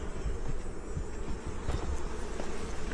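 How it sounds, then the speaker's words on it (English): Honeybees buzz around a hive frame after being shaken off it, a continuous close drone mixed with faint wind. "I shook off all the bees"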